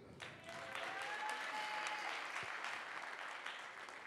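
Audience in a theatre applauding a young performing group, a sustained wash of clapping that swells and holds steady, somewhat distant and hall-filled, with no speech over it.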